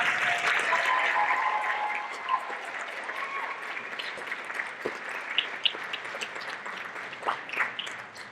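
An audience at a derby coronation ceremony keeps applauding, starting full and dense and then thinning to scattered claps. Faint voices murmur underneath.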